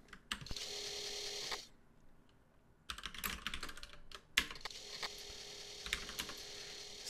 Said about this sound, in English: So you key the whole program in.